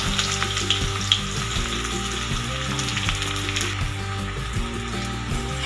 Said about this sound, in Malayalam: എണ്ണ ചൂടായി കഴിയുമ്പോൾ നമ്മൾ അതിലേക്ക് നമ്മൾ ഈ നുറുക്കി വെച്ചിരിക്കുന്ന കയ്പ്പയ്ക്ക ഇട്ട് കൊടുക്കാം